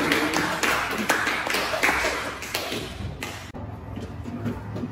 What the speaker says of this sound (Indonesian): Silakan beri tepuk tangan untuk kalian.